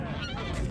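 Poultry at a chicken market in Ganja, with a nasal, honking squawk from a bird, loud and close, filling a very short moment.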